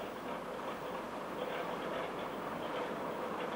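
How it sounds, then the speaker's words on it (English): A heritage train rumbles steadily over railway points at Bletchley with a broad, continuous rolling noise and faint rhythmic clatter, no voices. "The heritage train, as it is called, rolls over the points at Bletchley and moves on to the Bedford branch."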